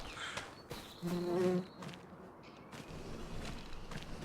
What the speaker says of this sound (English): Dang bee.